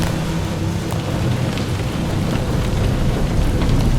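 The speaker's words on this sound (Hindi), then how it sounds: "तेज हवा में पेड़ की डालियां झूलने लगी, बिजली चमकने लगी और बारिश की मोटी बूंदें चेहरे पर चाबुक की तरह पड़ने" Heavy rain pours steadily in a thunderstorm with strong wind, a dense, loud hiss of drops with low rumbling underneath, continuous throughout with no voices.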